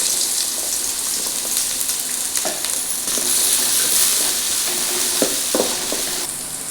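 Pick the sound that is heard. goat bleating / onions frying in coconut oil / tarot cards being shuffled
onions frying in coconut oil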